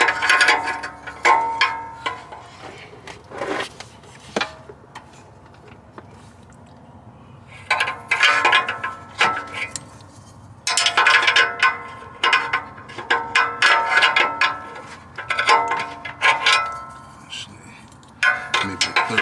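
A 15/16 wrench clicks in rapid ratcheting bursts while working a 2013 Toyota RAV4 oxygen sensor, close and bright metallic clatter separated by brief pauses, with some talk in the background.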